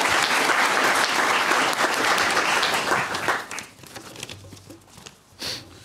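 Warm applause greets actor Midas Meester after a performance at an evening event on Gramsci and culture, a dense burst of clapping that thins out after a few seconds into scattered claps and faint rustling.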